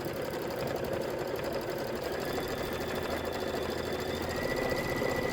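An embroidery sewing machine stitches out a design in a steady, rapid mechanical chatter, close and continuous with no voices.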